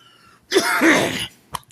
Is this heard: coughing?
yes